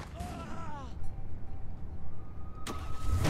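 A police car engine starting up in the Saints Row IV video game, a short cranking burst then a rising mid-pitched rumble, with game effects and chatter around it.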